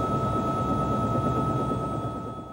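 Helicopter flying over floodwaters, a steady loud rotor and engine drone with a constant high whine, continuous and close throughout.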